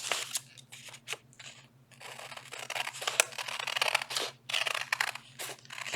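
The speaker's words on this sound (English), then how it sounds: "Now I'm going to cut both of these out at the same time." Scissors snip through stacked paper to cut out winter portrait shapes, giving a close, steady run of crisp cuts and rustles with brief pauses between strokes and no talking.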